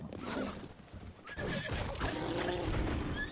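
A horse neighs and whinnies in a video game set in Akkala, with hoofbeats clip-clopping beneath, against a busy game soundscape, loud and close throughout.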